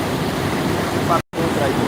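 Flooded Chandani river at Sirsav rushing in high spate: dense, steady roar of fast-flowing water with wind buffeting, loud and close, broken by a brief dropout.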